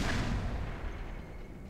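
A TOW missile fires in the Black Mesa video game, one heavy close boom that trails off into a rumbling roar over about a second and a half, with no voices.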